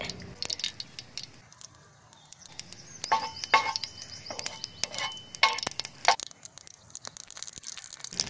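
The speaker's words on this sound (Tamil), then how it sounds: "எண்ணெய் சூடானதுக்கப்புறம் கடுகு வெந்தயம் ஒரு சிட்டிகை போடுறேன்." Mustard and fenugreek seeds splutter in hot oil on a tawa, giving scattered sharp pops and crackles of varying strength close by, with no talking.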